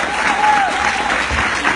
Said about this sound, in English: So y'all got to clap for that.